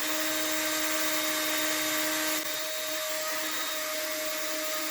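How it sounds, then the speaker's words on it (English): A steady, high-pitched power drill whine runs continuously while pre-drilling wood corners, with a slight shift in tone midway. No voices. "we're just going to pre-drill all these corners together."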